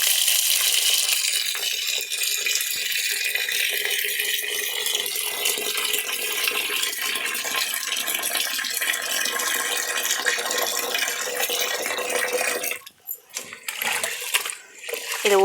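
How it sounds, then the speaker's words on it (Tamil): Ration rice being washed in water for idli batter: a continuous rushing water and rinsing wash dominates, then breaks into splashes and sloshing handling near the end, with no talk. "இதை கழுவி இப்போ எடுத்துகிட்டு வந்து காமிக்கிறேன். இதை நல்லா வாஷ் பண்ணணும்."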